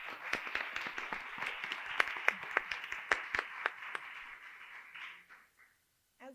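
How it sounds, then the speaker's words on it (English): A large audience applauds sponsors at a civic dialogue event in Kansas City, with dense, steady clapping for about five seconds that fades out at the end. "Let's give UMKC and all of our presenting sponsors a round of applause."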